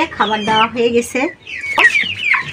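Backyard chickens cluck loudly and close by in a busy, overlapping chatter, while someone speaks over them.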